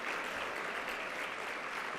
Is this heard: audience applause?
yes